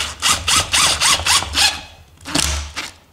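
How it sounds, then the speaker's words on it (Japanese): Screws driven into a wooden folding deck chair kit, a close, loud electric driver whirring in a quick series of pulsing bursts, then a short pause and two more bursts, with no talk. "こういう形でビスが埋まるまでしっかり止めてあげてください。"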